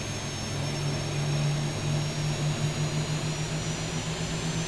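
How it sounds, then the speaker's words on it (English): Boeing 737 jet engines at takeoff thrust in X-Plane 12 roar in a steady, loud, continuous whine with a deep hum underneath, unbroken for several seconds and free of talk. "we're going to take it up to takeoff thrust, which will give us a few more percent N1"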